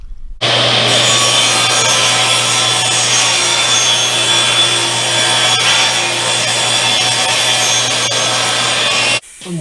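Wooden side pieces for a trash can being cut, a loud, continuous saw grind biting through wood, starting abruptly after a short silence and stopping near the end.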